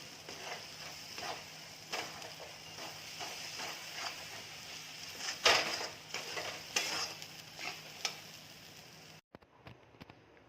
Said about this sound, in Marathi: वाटणाला तेल सुटेपर्यंत वाटण परतून घ्यायचं आहे